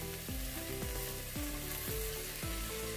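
Two medium-sized sliced onions fry in oil in a pan, giving a steady, close sizzle that carries on continuously beneath background music.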